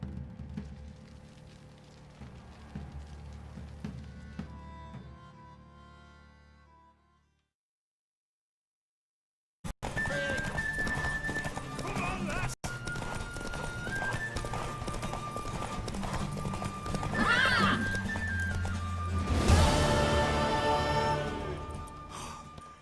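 A horse in the video game The Witcher 3: Wild Hunt clip-clops and neighs, with hoofbeats and a whinny that come through clearly on either side of a brief silent gap, and faint dialogue occasionally underneath.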